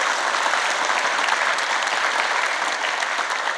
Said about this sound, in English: big round of applause to the organisers